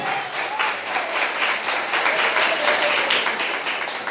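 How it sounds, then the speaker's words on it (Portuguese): A church congregation applauding during a sermon on the Protestant Reformation, a steady roomful of clapping with a faint voice briefly audible underneath. "Pode aplaudir, não se envergonhe."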